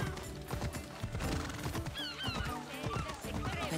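A horse in a video game trots with rhythmic clip-clop hooves and lets out a high neighing whinny partway through, with a faint mechanical clatter underneath.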